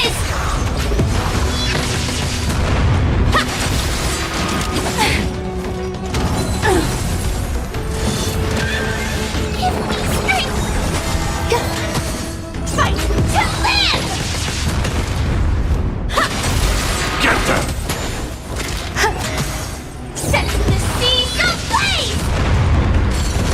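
Booming explosions and crashing impacts from a character's attack in the video game Honkai Star Rail, loud and dense, with overlapping bursts and a character's voice lines over a continuous layer of battle effects.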